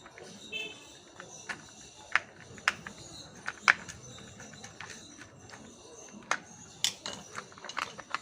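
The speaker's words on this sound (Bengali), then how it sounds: "পিছনে আর একটা স্ক্রু মারতে হবে।" Small screws being driven into a plastic toy vehicle, a Momentum microbus, during assembly, heard as sparse light ratcheting clicks and taps from a hand screwdriver close by, irregular and fairly quiet.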